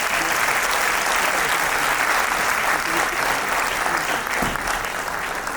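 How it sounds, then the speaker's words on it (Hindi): A theatre audience gives loud, sustained applause for a child artist who paints with their feet, at a World Music Day event with differently abled artists. The dense clapping fills the whole stretch without a break. "जोरदार तालियां इस बच्चे के लिए"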